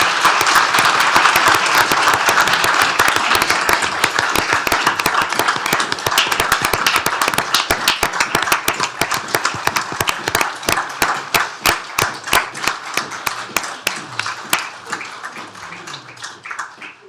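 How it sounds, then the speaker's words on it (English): Audience applauding at a county commissioners court session, a dense burst of clapping from a roomful of people that holds steady, then thins into scattered claps and fades out. "a round of applause"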